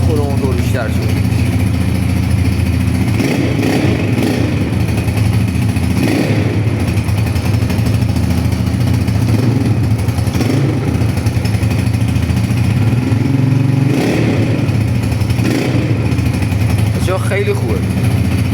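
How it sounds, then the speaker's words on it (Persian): A tuned Honda 200 motorcycle engine idles and revs repeatedly, the loud rasping note swelling and falling in bursts while people talk over it close by. "بچه ها خیلی گاز خوره موتور بیشتر شد."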